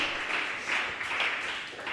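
A congregation at a church service breaks into a steady, continuous round of applause, with hands clapping in a bright, even wash throughout.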